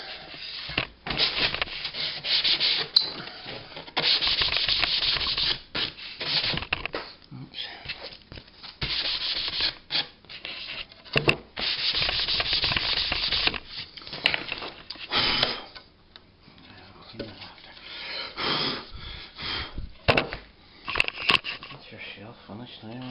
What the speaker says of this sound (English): So let's give it a wee rub down there.